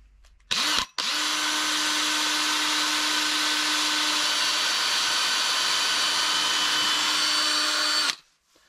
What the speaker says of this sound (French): Voilà, on perce les deux côtés.